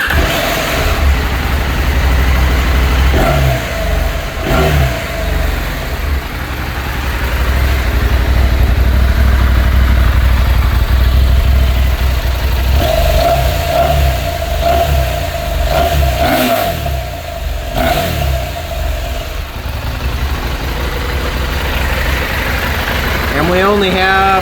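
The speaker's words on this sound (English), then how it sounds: "if you want to hear what the stock sound of the bike is like, I'll share that with you" A 2024 KTM 790 Adventure motorcycle with its stock exhaust, the engine idling and then revving with rises and falls in pitch, loud and close, with some voices and background noise.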